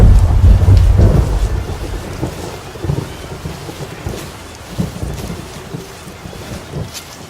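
Heavy rain pours steadily outdoors, opening with a deep roll of thunder, then continuing as a dense hiss with occasional gusts buffeting the microphone.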